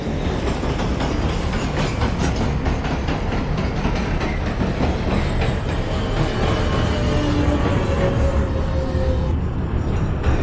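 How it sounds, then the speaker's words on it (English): An NYC Subway R143 J train runs in the OpenBVE simulator, a loud continuous rumble of wheels and motors with rhythmic clickety-clack over rail joints and a faint rising whine, steady throughout. "This is a Brooklyn-bound J local train."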